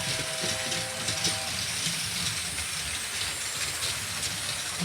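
A small Atlas Trainkids toy Acela high-speed train runs at its second, slightly faster speed, giving a steady loud mechanical whirr and hiss with faint rattling throughout and no talk.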